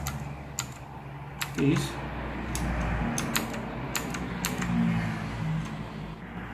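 Keys tapped one by one on a light-up computer keyboard, sharp scattered clicks at an uneven pace over a low background hum, while someone speaks briefly.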